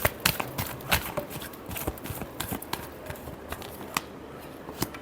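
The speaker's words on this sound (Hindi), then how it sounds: "Last shuffle." A deck of tarot cards being shuffled by hand, a rapid run of soft flicking and tapping clicks in uneven bursts, close and fairly quiet, with no talking.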